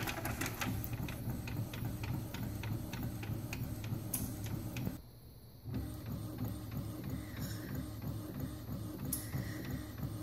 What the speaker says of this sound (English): And here goes the printer.